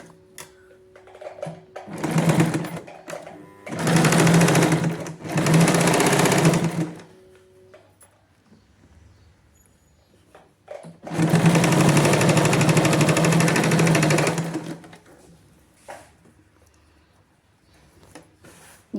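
Sewing machine stitching darts on girls' shorts for a six- to seven-year-old, running in several close, loud bursts of rapid whirring stitching separated by quiet pauses.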